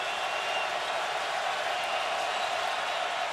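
Stadium crowd at a 2015 Clemson at Louisville college football game, a steady distant roar of many voices that holds level throughout with no distinct shouts.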